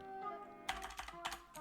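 Computer keyboard typing in short bursts of clicks, moderately close and fairly faint over a steady electronic hum.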